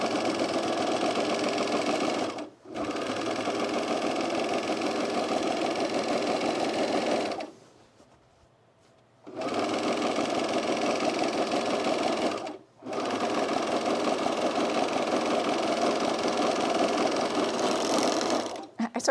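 A sewing machine stitches a pair of cargo pants with a steady, close mechanical whirr. It runs in long bursts broken by short stops and one longer pause.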